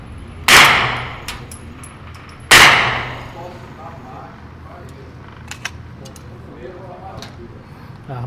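Two loud rifle gunshots at a range target ring out a couple of seconds apart, each with a ringing decay, then a few faint clicks and a quiet background.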